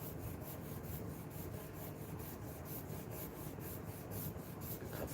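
A blade is sharpened on a coarse 320 grit stone: a close, continuous rhythmic rasping of steel stroked back and forth, repeating evenly, without talk.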